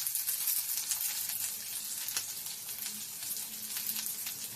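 Carrot and beetroot frying in a pan for a chicken curry give a steady, fairly quiet sizzle with faint crackles and occasional stirring, heard alone and close by.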